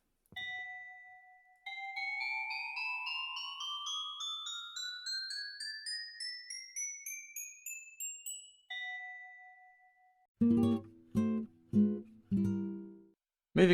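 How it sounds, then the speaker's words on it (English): Minecraft note block set on packed ice playing bright chime tones in a steadily rising scale of evenly spaced notes, a single chime on each side, then a few louder, denser game sounds near the end. "The chimes are made by using packed ice under the note block."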